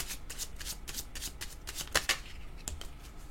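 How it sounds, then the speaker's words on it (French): Playing cards being shuffled by hand to draw a new card, a quick run of crisp riffling flicks close up, with a couple of sharper snaps near the end. "Je vais demander une carte sur celle-ci"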